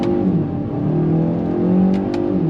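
A 2023 Kia Forte GT accelerating on throttle, its engine note loud, close and steady with a rising pitch, and two brief sharp ticks near the end, with no voices.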